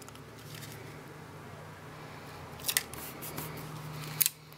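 Scissors trimming excess cardstock from a handmade watercolor pumpkin card, heard as two or three quiet, brief snips near the end over a low steady room hum, with no talking.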